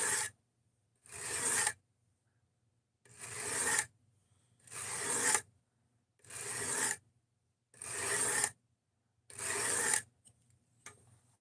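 Knife blade stroked across a coarse sharpening stone, hogging off material: six loud, rasping passes, each about a second long, separated by short pauses in a steady rhythm, close up with no talk.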